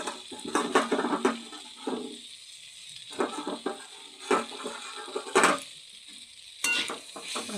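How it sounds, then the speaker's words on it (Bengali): Cauliflower fries in a pan while a spatula stirs it, with repeated scraping bursts over a steady sizzle, close and fairly loud, with brief pauses between strokes. "ভালো করে নেড়ে নেব।"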